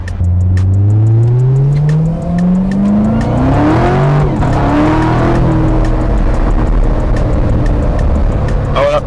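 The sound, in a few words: sports car engine accelerating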